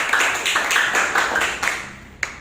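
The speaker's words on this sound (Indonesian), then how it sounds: "Tepuk tangan untuk kita semua." A classroom group claps in a quick, uneven burst of hand claps that gradually thins out, ending with a single louder clap.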